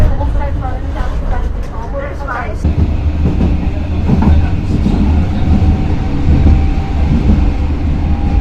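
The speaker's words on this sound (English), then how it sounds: "This tram train runs at 60 miles an hour." A Karlsruhe tram-train rumbles steadily along at about 60 mph, a continuous low roar with rail noise, while a voice speaks over the top at the start.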